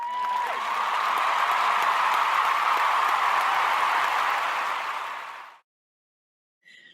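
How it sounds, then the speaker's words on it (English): Steady round of audience applause at a World Water Day community event honoring a speaker, sustained and even for several seconds before cutting off sharply to silence, with a faint brief sound after. "Let's get one more round of applause for Leah."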